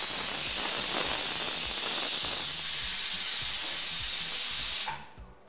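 A pressure cooker of foxtail millet khichdi lets off a loud, steady hiss of escaping steam with a bright whistling edge for about five seconds, then cuts off sharply, leaving faint room tone and no speech.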